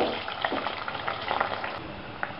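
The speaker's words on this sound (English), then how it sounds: "In the same oil, we'll fry our potatoes." Potatoes frying in hot oil, a dense continuous sizzle with crackling pops and occasional stirring, close and alone.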